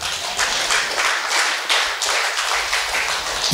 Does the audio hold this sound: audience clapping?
yes